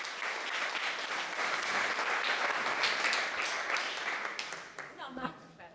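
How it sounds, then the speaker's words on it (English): Sustained applause fills a chamber lecture hall for a volunteer joining a storyteller on stage, swelling and then fading as a voice starts talking at the end. "Give Meg a round of applause."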